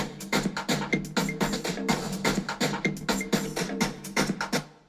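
Stick, clap and hi-hat percussion loops play together in a dense electronic dance groove from a Tomorrowland track, with steady, evenly spaced hits at close, moderate level and no talking.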